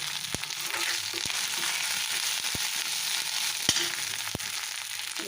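Chopped onions sauté in hot oil in a pan for a cashew masala gravy, giving a steady close sizzle throughout. A few sharp clicks from a spatula or utensil tapping the pan break through the frying noise.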